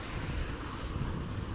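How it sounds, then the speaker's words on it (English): Wind gusts buffet the microphone outdoors, a steady low roar and rustle with no voices. "it's getting windy"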